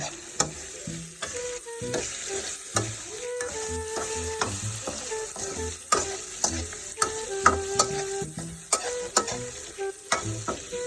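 A spatula stirs and scrapes food in a pan during large-batch cooking for a wedding feast. Repeated close metallic clinks and scrapes ride over a steady sizzle, with no talking.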